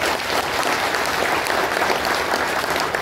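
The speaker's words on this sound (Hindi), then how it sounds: "जोरदार तालियों से उनका स्वागत करें" A large crowd at an ex-servicemen rally in a stadium gives a loud, sustained round of applause welcoming the chief guest, the deputy chief minister, steady and dense throughout.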